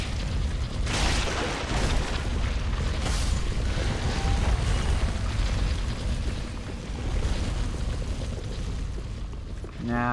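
Heavy rolling rumble and crashing booms as a huge ball tears through skeletons in Dark Souls 3, a dense, loud, sustained roar with bursts of impact noise throughout.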